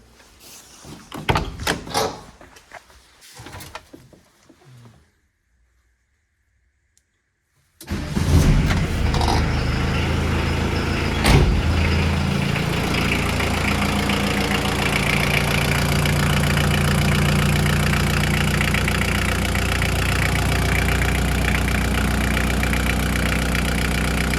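A Volkswagen T4 van's 1.9 naturally aspirated diesel cranks after a few clanks and a pause, then catches and settles into a loud, steady, slightly knocking idle that runs on close by.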